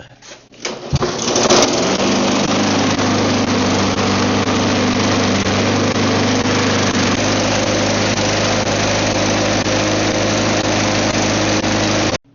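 Small lawn mower engine sputters, then catches and runs steadily while being primed, a loud, close, continuous buzzing drone that holds for about ten seconds before cutting off abruptly.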